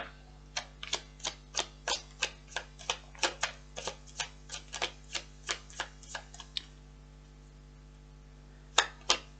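Tarot cards shuffled by hand in a steady run of crisp riffling snaps, about fifteen quick strokes, then a short pause and a couple more near the end, close and fairly quiet.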